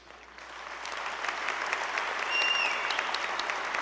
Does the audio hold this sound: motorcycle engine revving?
no